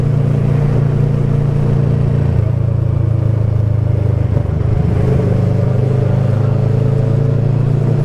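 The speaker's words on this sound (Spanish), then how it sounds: "Y ya tenemos un rato de estar pasando carro" Cars creep past in a queue on a road between Cartagena and Medellín, a steady close engine drone with low rumbling that swells slightly midway, no talking.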